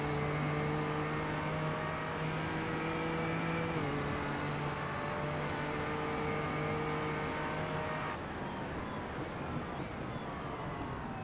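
Aston Martin DBRS9 GT race car in the Race Pro video game, its engine droning steadily with strong harmonic whine, pitch shifting as it revs through gears, loud and continuous throughout.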